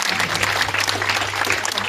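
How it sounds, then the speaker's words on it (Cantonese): Wedding guests give a dense burst of clapping for the bride, loud and close, sustained throughout with no talk over it. "我哋俾啲掌聲"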